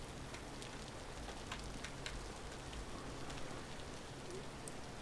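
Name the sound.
rain in the video game Vintage Story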